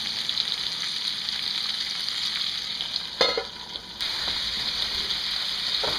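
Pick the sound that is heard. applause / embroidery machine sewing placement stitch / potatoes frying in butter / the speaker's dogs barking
potatoes frying in butter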